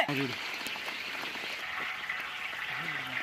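Steady rain hisses and patters continuously, a soft wash of noise with faint voices briefly audible at the start and end.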